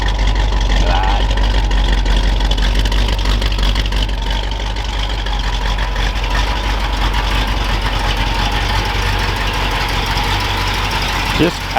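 A classic 1964 Chevrolet C2 Corvette V8 with solid lifters idles loud and close on winter roads, a deep, lumpy, continuous rumble with a faint rising whine near the end.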